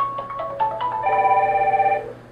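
An AddPac AP-VWP100 smart IP wall pad rings for an incoming call with a short electronic melody of stepped beeps that then settles into a sustained chiming tone, close and clear.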